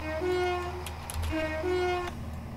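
A train running on the Chiltern Mainline in Train Simulator, with sustained horn-like tones sounding in two separate blasts over a steady low rolling rumble and a brief clunk between them, no talk.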